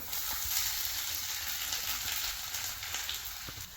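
Mustard seeds, three dried red chilies and finely chopped garlic sizzle in hot oil for a Kerala-style tempering, a loud, steady crackling fry that continues without pause and without any voices.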